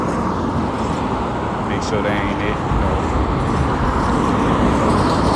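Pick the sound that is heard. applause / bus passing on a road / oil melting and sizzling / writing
bus passing on a road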